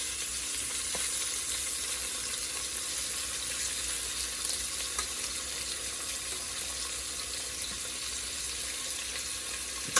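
Pieces of pork roast searing in a crowded pan, a dense, even hiss of sizzling fat that holds steady throughout with occasional faint pops and no voices.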